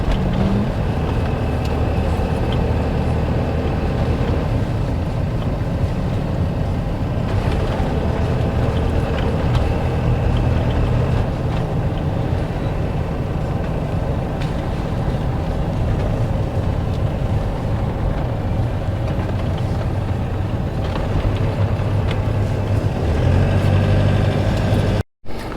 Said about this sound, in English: But a little bit more traffic in this area.